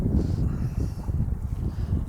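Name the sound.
wind blowing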